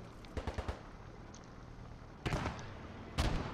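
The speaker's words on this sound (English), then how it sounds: "Arty coming down. It's a good strike." Artillery shells land in a World War II battle game on the Stonne map, giving a quick cluster of sharp booms followed by two heavier distant blasts, with no talk.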